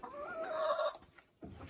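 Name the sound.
chickens and rooster clucking in farm coop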